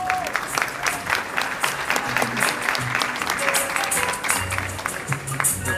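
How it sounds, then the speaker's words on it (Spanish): An audience claps for preschool children after their joropo dance performance at a school show, with brisk, somewhat uneven clapping close by, some individual claps standing out and faint voices and crowd murmur mixed underneath. "Un fuerte aplauso para nuestros niños de prekinder E."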